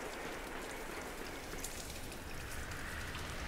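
Liquid dripping in the video game Limbo, heard as a steady, dense patter like rain falling on a surface, continuous and even throughout with no voices.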